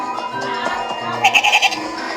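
Goats bleating in quick succession, a series of four or five wavering cries near the middle of the clip over a background of other noise and muffled sounds.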